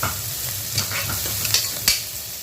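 Sliced onions for a goat intestine fry sizzle and hiss steadily in a hot pan, with a few soft scrapes of the spoon stirring them, close and clear.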